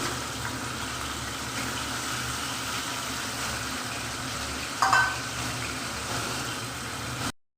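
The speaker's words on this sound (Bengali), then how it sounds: "প্রথমে আমি রুই মাছ ভেজে নিচ্ছি।" Pieces of rohu fish fry in hot oil with a steady, continuous sizzle, loud and close, swelling briefly partway through before cutting off.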